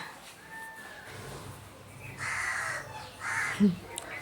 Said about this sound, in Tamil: இனி எப்படி அந்த காக்கா கூப்பிடுது பாருங்க.